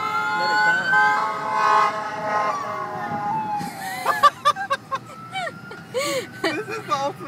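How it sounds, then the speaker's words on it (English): A fire battalion truck passes with its siren wailing, a rising and falling tone sweeping past, followed by sharp yelping siren bursts nearby, with people talking over it. "here comes the battalion truck."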